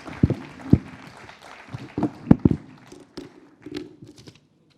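Scattered hand clapping from a youth forum audience gathered for a group photo, a handful of sharp claps in irregular bursts rather than sustained applause, with faint background movement between them.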